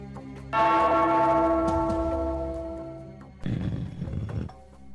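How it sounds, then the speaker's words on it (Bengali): A large bell struck once, its deep ringing tone sustaining and slowly fading, followed by a brief rough rumbling noise. "ওই ঘন্টাটা বাজাও, বাজাও।"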